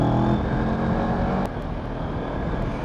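The engine of a CF Moto MT650 motorcycle drones steadily under hard throttle while riding on Nepalese roads, with a rough buzzing tone that eases slightly partway through. Nobody speaks.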